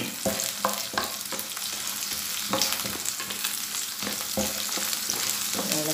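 Onions and chillies sizzling in hot oil in a pan for chicken cashew nut varattiyathu, a steady frying hiss broken by repeated scraping stirs of a spoon, close and fairly quiet with no talking.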